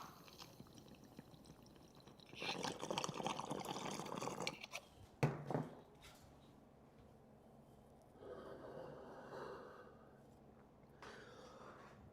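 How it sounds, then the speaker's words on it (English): Bong water bubbling during a hit, a close gurgling burst of bubbles, then a sharp knock and a softer second bubbling spell later on, against a quiet room with no speech. "I'll try to get the bong water sound close to the mic"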